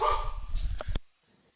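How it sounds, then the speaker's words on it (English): A brief burst of dog barking, loud and close, cut off abruptly into near silence. "the dogs are barking"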